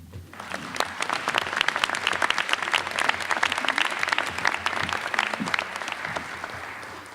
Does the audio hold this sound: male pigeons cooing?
no